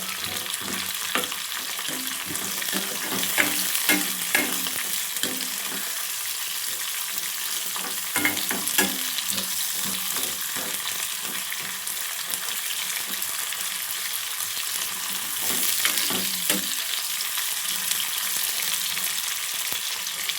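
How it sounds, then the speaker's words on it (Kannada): Onions sizzle and crackle steadily in a hot pan, with occasional stirring scrapes and clinks, continuing without a break. "ಕ್ಲೀನಾಗಿ ಫ್ರೈ ಮಾಡ್ಕೊಳ್ಳಿ."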